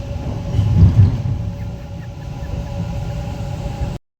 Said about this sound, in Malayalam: അതെ, ഹൃദ്രോഗമുള്ള ആൾക്കാർ മെട്രോ എത്തി.